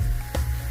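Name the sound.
dal added to hot pan, sizzling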